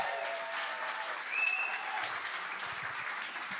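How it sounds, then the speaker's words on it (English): A church congregation claps for senior pastors coming up front, a full steady round of applause filling the room, with a faint whistle partway through and low murmurs toward the end. "Give them a round of applause."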